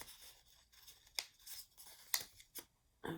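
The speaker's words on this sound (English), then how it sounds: "We're just going right across and snipping it off to form" Scissors snip across folded paper in a quiet room, with a few sharp, close cuts spaced irregularly between soft rustling and handling of the paper.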